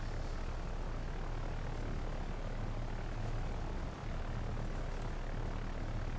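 Torpedo bomber aircraft engines in the video game Victory at Sea Pacific, a continuous loud propeller drone roaring steadily throughout with no talking.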